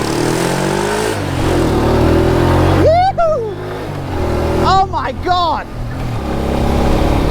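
A car engine hums steadily while driving, with a sustained low drone and mild surges of acceleration, as excited voices speak over it.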